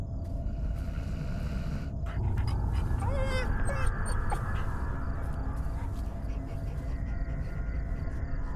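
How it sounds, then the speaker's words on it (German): Dog whimpering and panting in the horror game Fears to Fathom, faint short whines over a steady low ambient hum, with soft breathy pants in the middle. "Der Hund verhält sich komisch."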